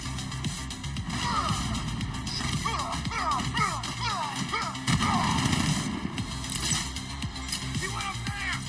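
Turret gunfire in Batman Arkham Knight rattles out in repeated rapid bursts mixed with explosive booms and game sound effects, loud and continuous throughout.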